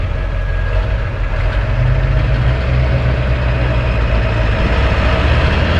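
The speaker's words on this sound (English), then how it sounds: "First time ever running with a truck on trans fluid." Loud, close Ford diesel truck engine running on used automatic transmission fluid, idling with a steady low rumble and rough knocking throb, running continuously with no talking.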